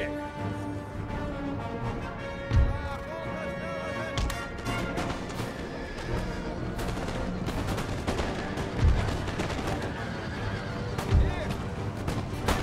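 Battle din from the Empire Total War video game with cavalry horses and musket fire: scattered sharp musket shots over a continuous rumble of fighting and music, with a voice talking over it.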